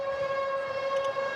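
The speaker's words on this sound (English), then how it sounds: "So the Power 5 siren goes." A netball match siren at a Suncorp Super Netball game between Fever and Swifts blares as a single steady, loud electronic tone with strong harmonics, held without a break.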